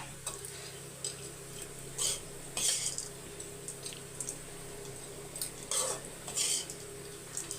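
A spoon scrapes and clinks against a dish as cooked rice is stirred together with drumstick leaf powder, with soft, irregular stirring and a few sharper metallic taps over a quiet background hum.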